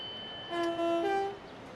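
In a train simulator game, a Southeastern High Speed train rumbles past through Higham and sounds a long, steady horn blast that swells in the middle and then fades.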